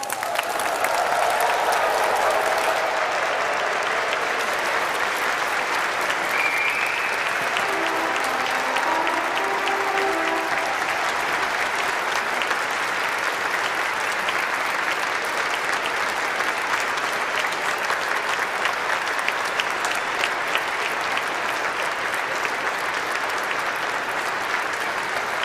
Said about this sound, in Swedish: Och vi hälsar de nyvigda biskoparna med jubel och applåder.